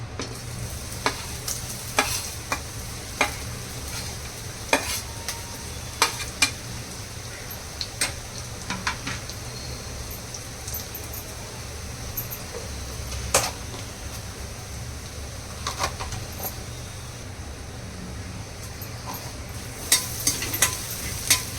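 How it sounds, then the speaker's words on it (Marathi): Chillies, coconut and peanuts dry-roasting in a pan for fasting misal, a soft continuous sizzle with scattered sharp taps and scrapes of stirring throughout, no talk. "चांगलं भाजून घेऊया"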